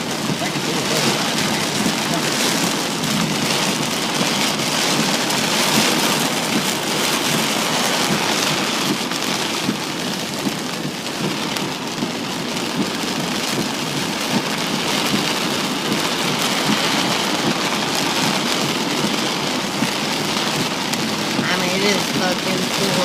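Heavy rainstorm pounding steadily and loudly on a vehicle during a drive, with dense continuous drumming throughout and no pauses.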